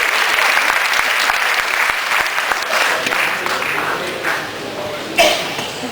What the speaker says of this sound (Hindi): जोरदार तालियों से अपने भी स्वागत कीजिए सुनील साहिल।